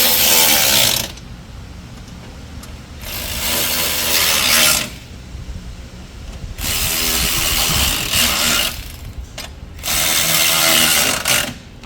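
Grill bolts on a 2011-2016 Ford Super Duty truck being tightened with a power tool: several loud, close bursts of whirring, ratcheting mechanism a few seconds each, separated by quieter pauses.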